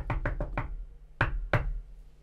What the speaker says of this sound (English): At which point you hear a rapping on the door.